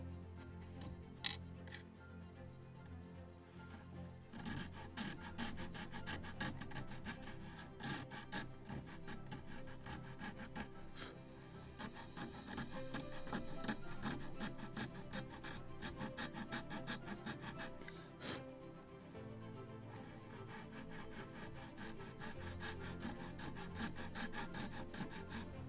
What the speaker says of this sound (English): I need to sand a little more, so I will use my needle file